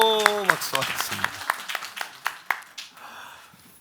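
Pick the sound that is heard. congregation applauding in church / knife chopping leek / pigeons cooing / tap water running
congregation applauding in church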